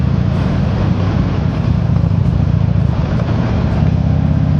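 A 1203cc V-twin motorcycle engine drones steadily and loudly inside a tunnel, a constant low rumble with the enclosed space filling out the sound, no speech.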